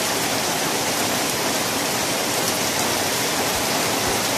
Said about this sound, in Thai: บรรยากาศฝนตกครับในรอบครึ่งเดือนก็ว่าได้ครับ